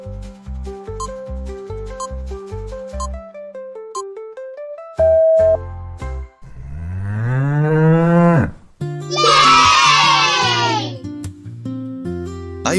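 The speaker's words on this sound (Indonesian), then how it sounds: "Suaraku moo terdengar setiap hari." A cow moos loudly and drawn-out after a cheerful children's tune with synth notes, the long low call rising and falling, followed by a bright high squeal and more music.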